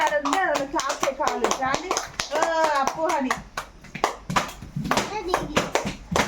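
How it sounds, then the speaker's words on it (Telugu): Kids in a room clap along while playing a handkerchief game, a run of sharp hand claps scattered through lively children's voices and calls. "క్లాప్స్"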